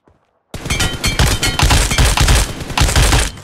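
Rapid bursts of automatic gunfire in the mobile shooter PUBG Mobile, with loud, dense and closely spaced shots that start abruptly after a brief silence and continue without pause.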